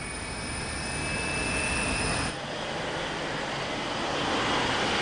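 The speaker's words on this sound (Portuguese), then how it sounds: "Os motores a jato funcionam com os gases escape." Military fighter jet engine, such as an F-22, roaring loudly as a dense, broad continuous rush with a high whine that fades midway, close and steady.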